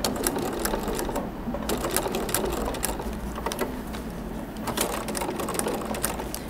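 A sewing machine stitches fabric and paper for a quilting project in a steady, fast mechanical run of needle strokes that sounds close and continuous throughout.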